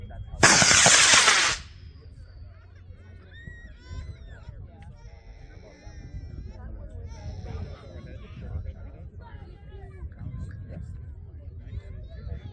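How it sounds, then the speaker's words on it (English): A level 1 certification model rocket launch at an outdoor sport launch: a loud, brief roaring burst of motor ignition lasting about a second, followed by faint distant crowd chatter and ambient outdoor noise. "AAA level 1 certification flight. Good luck, Jeffrey. We have continuity going in 5, 4, 3, 2, 1"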